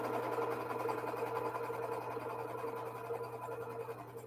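A sewing machine runs in one long, even whir while chain piecing a quilting project, with a low steady motor hum underneath and no voices.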